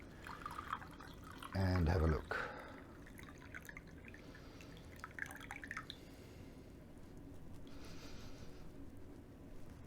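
Sencha green tea poured from a pot into cups, a brief loud splash of liquid followed by soft trickles and drips, with a person speaking quietly nearby.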